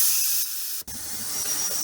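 Compressed air hissing from a hose fitting during an engine cylinder leak-down test: a steady, fairly loud hiss, briefly cutting out for an instant before resuming.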